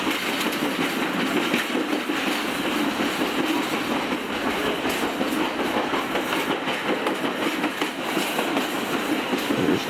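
An Adirondack Scenic Railroad train runs on the Thendara–Otter Lake line near the Moose River, giving a loud, continuous rumble with rhythmic clicking of wheels on rails, close by and without talk.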